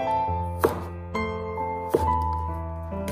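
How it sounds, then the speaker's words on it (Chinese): A knife cuts a carrot into diamond-shaped slices for a stir-fried broccoli dish, giving a few sparse, crisp chops against the board beneath steady, louder background music. "将胡萝卜切成这样的菱形片"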